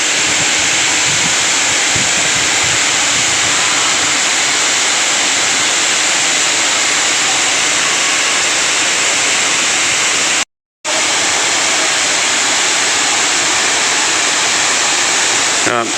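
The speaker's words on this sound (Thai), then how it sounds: "เป็นน้ำตกที่ สูง 70 เมตร มีชั้นเดียวนะครับ ชั้นเดียวที่สูง 70 เมตร" Khun Korn Waterfall in Chiang Rai, a single 70-metre drop in rainy season, roars continuously with a dense, steady rush of water, loud and close, with a brief cut in the middle.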